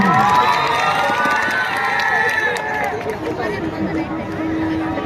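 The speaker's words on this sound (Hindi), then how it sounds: "जोरदार तालियां।" A crowd at an outdoor Ramlila performance in Sector 19, Panchkula cheers and claps loudly, with children shouting and excited voices mixed into a continuous, lively roar of noise.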